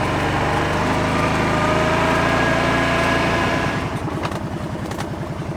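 A quad (ATV) engine runs loud and close outdoors, revving steadily, then dropping to a rough, pulsing idle with a rhythmic chug for the last couple of seconds.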